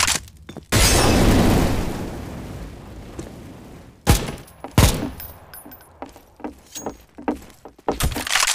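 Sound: grenade explosion in video game CSMOS

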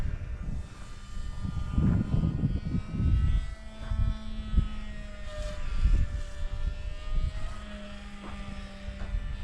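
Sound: Skipper light aircraft flying

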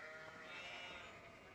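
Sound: sheep bleating in Nancy Drew video game

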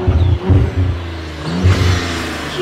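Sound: Audi B9 S4 with ECS X-pipe exhaust accelerating

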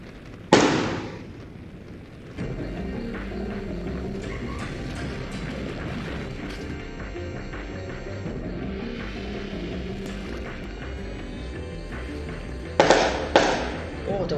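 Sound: fireworks being set off nearby

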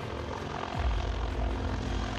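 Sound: Mil Mi-28 attack helicopter flying

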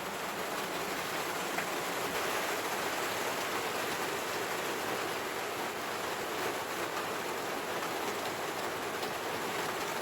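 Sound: rain falling

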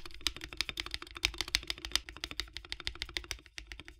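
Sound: typing on Ducky One 3 SF keyboard with lubed switches

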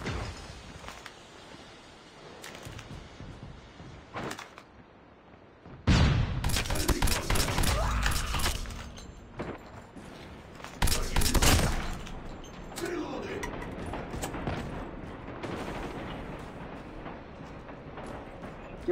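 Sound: gunfire in a video game

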